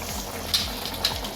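Veg Manchurian sauce simmering in a pan, giving a soft, steady bubbling with a couple of brief, slightly sharper pops, fairly faint and close.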